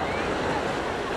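Sea waves roll in at Juhu beach as a steady, dense wash of surf, loud and close, with no break for the whole stretch.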